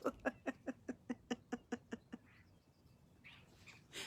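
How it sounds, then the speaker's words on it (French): A bird gives a run of about a dozen quick, evenly spaced chirping calls, faint and close, followed by a pause and some softer rustling sounds. "L'oiseau."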